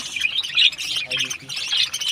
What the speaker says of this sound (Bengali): এই যে আমার কলোনির পাখিগুলো